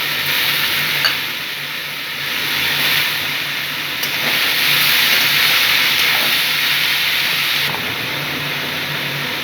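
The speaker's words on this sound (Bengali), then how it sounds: "ঝোলটা নাড়াচাড়া করছি" Chili gravy for thor ghonto (banana stem curry) simmers in a pan, giving a steady, fairly loud broadband hiss with slight swells and no talking.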